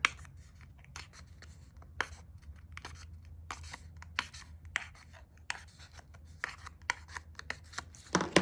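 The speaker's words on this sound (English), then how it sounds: "There were a lot of holes to poke in this card." Holes being poked one after another through a paper card, each a short sharp scratchy puncture at a roughly steady pace, about two per second, close and fairly quiet with no voices.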